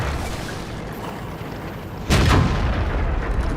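A single loud, close tank cannon shot booms in the World of Tanks video game and is followed by a rumbling tail, while steady engine drone runs beneath it.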